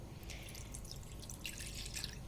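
Cold water trickles and drips into a blender holding chopped onions, a steady light splashing close by with no talk over it.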